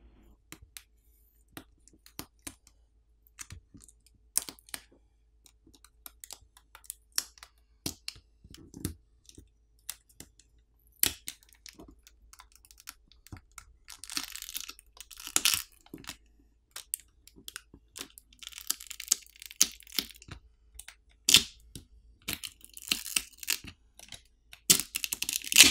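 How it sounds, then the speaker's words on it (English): Prying the battery off an OPPO Reno7 Pro smartphone during a teardown, using pull tabs on either side: scattered close, sharp clicks and small crackling snaps that come irregularly and grow busier toward the end, with no talk. "In order to remove the battery, there are pull tabs on either side to help us pry the battery off."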